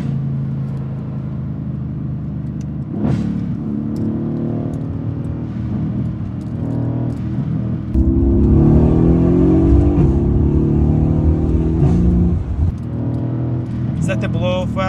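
Stock Mercedes W218 CLS63 AMG engine and exhaust revving through firm upshifts and downshifts, a loud, close, deep growl that swells and drops with gear changes, with a sharp burst partway through and someone talking over it.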